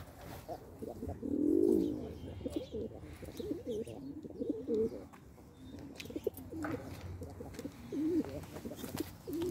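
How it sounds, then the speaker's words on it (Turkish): Low, soft cooing from fancy pigeons, including crested Arab-type birds kept in a loft, rises and falls in several gentle rounds, fairly close but quiet, with no talk. "Bunlar da yine sevdiğim, biliyorsun vazgeçemediğim hayvanlar."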